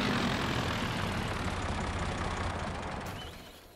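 A tractor engine in Farming Simulator 22 drones with a heavy low rumble, steady and loud before fading off near the end; no talk.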